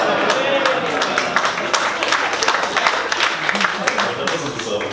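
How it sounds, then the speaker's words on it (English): Dense, continuous applause from a comedy club audience at a science comedy night, steady crowd clapping filling the whole stretch with a few louder bursts. "That doesn't deserve applause."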